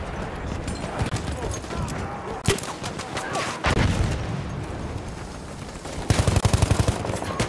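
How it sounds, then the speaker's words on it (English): Gunfire in a World War I Battlefield 1 match, with rapid bursts and single shots cracking close and far amid a din of battle, a dense rattling volley near the end. "Machine gun, looks like."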